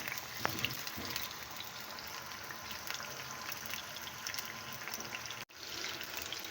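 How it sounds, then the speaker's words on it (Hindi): Potatoes frying in oil in a pan over a medium flame, a steady low crackle and fizz with scattered small pops, quiet and continuous with one brief dropout near the end. "आलू हमारे बहुत अच्छे से फ्राई हो रहे हैं।"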